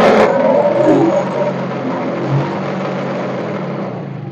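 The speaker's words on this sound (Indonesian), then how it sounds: "Dan motor digas pun normal ya, cuman turunnya agak lama" A Yamaha Mio Fino fuel-injected motorcycle with a sputtering, stalling fault is revved; the engine roars loudly and close, then drones on without dropping quickly back to idle.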